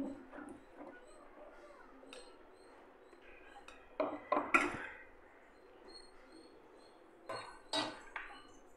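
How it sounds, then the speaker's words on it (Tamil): Sugar is stirred into a cooking pot, with scattered metallic clinks and scrapes of a spoon against the pot, a few sharper knocks among quieter stirring and faint background sounds. "சர்க்கரை சேர்த்து நல்லா ஒரு மிக்ஸ் பண்ணி விட்டுலாம்"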